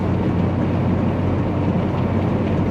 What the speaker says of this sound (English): my engine is struggling to keep us at only 70 miles an hour